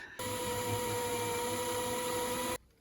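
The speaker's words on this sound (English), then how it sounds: "so I'm just gonna start drilling." A power drill runs at a steady high whine for over two seconds drilling into a narrowboat wall, starting and stopping abruptly, close and loud.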